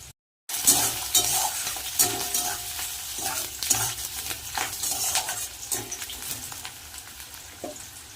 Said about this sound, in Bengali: পেঁয়াজটা একটু ভাজা হয়ে যাক